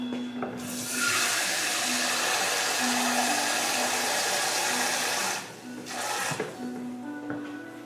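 About a cup of water pours into a gumbo pot in a steady rushing stream for several seconds, then stops and briefly resumes, heard up close over a faint background hum.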